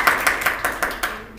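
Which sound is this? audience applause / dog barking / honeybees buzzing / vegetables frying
audience applause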